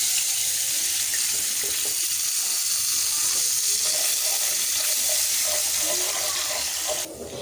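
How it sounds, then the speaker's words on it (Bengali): Water is poured from a tap-like stream into a pan of spice paste (turmeric, chili, ginger, garlic, cumin) for an eggplant dish, a steady close splashing over light sizzling that stops near the end. "মশলাটা কষানো দিয়ে দিচ্ছি অল্প করে পানি।"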